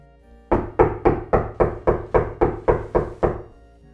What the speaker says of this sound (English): a loud knocking starts up against the plasterboard wall on his side of the bedroom